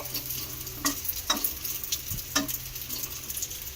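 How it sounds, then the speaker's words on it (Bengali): Soft, steady sizzling of semolina batter frying in a pan, with a few light scraping clicks from a utensil. "দু পিঠ উল্টে পাল্টে বেশ সুন্দর করে খাবারটাকে ভেজে নিলাম"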